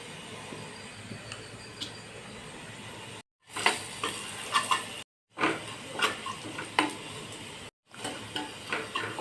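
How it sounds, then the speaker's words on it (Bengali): Chopped onion, cumin and turmeric hit hot oil for dal tadka, giving a loud crackling sizzle with stirring scrapes and pan clatter, broken by short cuts of silence. "এখানে তেলটা রেডি, এখন দিয়ে দিচ্ছি আমি পেঁয়াজ কুচি, দিয়ে নিচ্ছি হলো জিরা, দিচ্ছি আমি হলুদ গুঁড়ো"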